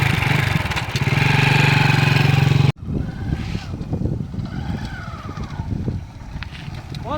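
A motorbike engine runs steadily and fairly loud for under three seconds, then cuts off abruptly, leaving a quieter, uneven background rumble.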